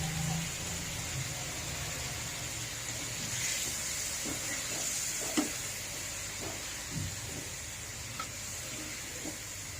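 A large fish head sizzles and hisses steadily in hot oil in a pan while being fried down for mung dal, with a few soft clicks and stirring scrapes over the continuous sizzle.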